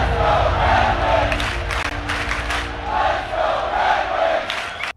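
Roaring hockey arena crowd at a Red Wings vs. Blue Jackets prospect game, a loud continuous wall of cheering and chanting with swelling waves, cutting off abruptly at the end.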